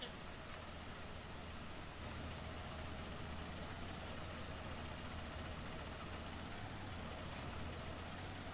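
A Peterbilt tractor truck engine idling steadily, a continuous low rumble with a constant hum underneath, heard fairly quietly and evenly throughout with no talk.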